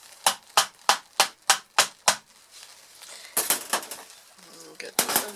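A soap mold full of hot-process jewelweed soap is banged down on a surface seven times in quick, even succession, each one a sharp, loud knock. Softer clattering and handling sounds follow, then two more hard knocks near the end.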